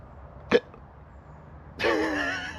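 A single sharp hiccup sounds up close after eating hot food while winter camping in a bivvy bag, then a voice starts speaking.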